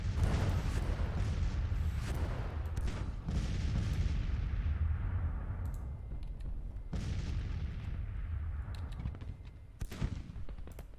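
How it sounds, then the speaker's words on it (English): Civil War artillery fire in a Vicksburg battle game, repeated booming cannon shots and crackling musketry in irregular bursts, loud and continuous with no talk. "Second Division Artillery is going to kill us there."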